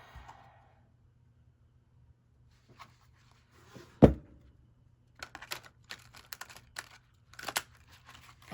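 Mythos Tarot cards being shuffled, with one firm knock of the deck followed by a quick run of soft, rhythmic riffling flicks, close up and clear, with no talking.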